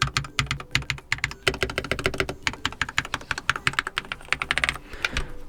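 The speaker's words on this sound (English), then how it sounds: "the keyboard does already sound like it's dampened pretty well" Typing on an Endorfy Thock V2 Wireless keyboard, a rapid stream of dampened key clicks close up, in quick bursts with a brief pause, no voices.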